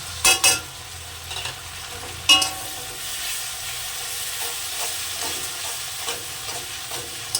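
Spice paste of ground ginger, garlic and cumin frying in a pan for a spicy tengra fish curry, sizzling steadily throughout with a couple of sharp scraping stirs near the start.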